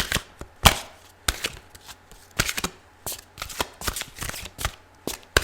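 Tarot cards are shuffled in quick, crisp bursts, riffling and snapping close up, with short pauses between each round.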